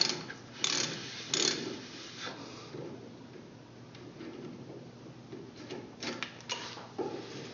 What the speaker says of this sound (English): I'm going to have to back this tap out by hand